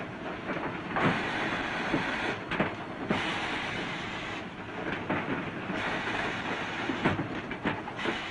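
Mining ore wagons being loaded in the Mauritanian desert, a steady loud rumbling wash of rail and loading noise with periodic heavier thumps and clanks, no speech.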